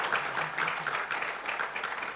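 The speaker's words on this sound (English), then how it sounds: "Please let's give a round of applause to the panel." Applause from a conference audience thanking a panel at a debt capital markets event, steady dense clapping throughout at moderate level, no voices over it.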